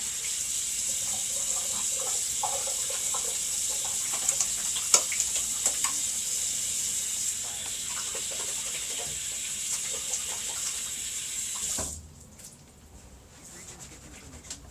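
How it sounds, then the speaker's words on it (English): Hands being washed under a running tap, a steady splashing stream with small clicks and rubbing sounds for about twelve seconds before the water shuts off, leaving quiet room tone. "I'm going to go wash all this cerebral spinal fluid off my hands before I continue."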